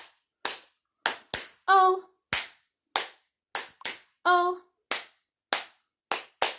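Sharp, close hand claps in steady groups keep the beat in a clap version of the Bingo children's song, alternating with short sung syllables from a singer.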